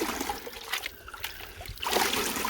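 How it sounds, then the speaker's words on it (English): A gold prospecting pan dunked and washed in water, sloshing and trickling steadily up close with a louder swirl of water toward the end. "And when I dunk it now, just that washing of the water will take a lot of the light, clayey, sandy shit off."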